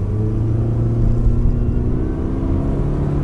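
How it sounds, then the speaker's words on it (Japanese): Subaru Impreza ST-G FWD with a CVT gently accelerating in Intelligent mode, a steady, droning engine hum and cabin rumble heard from inside, with no talk. "で今インテリジェントモードで走ってます。 で少し加速をしてますね。"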